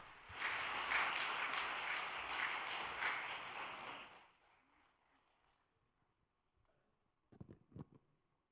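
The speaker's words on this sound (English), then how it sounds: "with a big round of applause" Audience applause at a devotional church gathering, a dense burst of clapping lasting about four seconds that fades out, followed by a few faint distant knocks.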